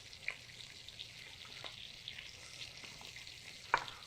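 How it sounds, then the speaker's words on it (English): Pomegranate juice sizzles as it is poured into a hot pan in a kitchen, a faint, steady frying hiss with a few soft pops, heard alone without talk. "So to our pan here, a little bit of pomegranate."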